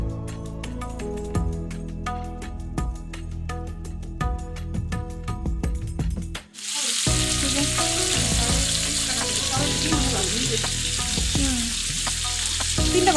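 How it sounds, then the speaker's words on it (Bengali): Slices of pointed gourd and spiny gourd fry in a pan, first with clinking and scraping of a utensil, then after a brief pause a loud, continuous hiss of hot oil that dominates, close up with no voices. "আমার পটল আর কাঁকরোল ভাজা হচ্ছে।"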